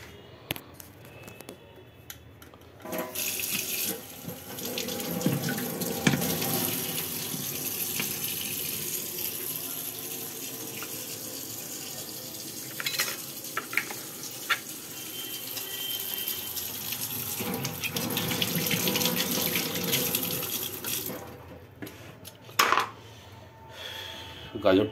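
Tap water runs steadily into a kitchen sink while a vegetable chopper is rinsed under it, with light clinks of plastic and metal against the basin. The water stops briefly near the end.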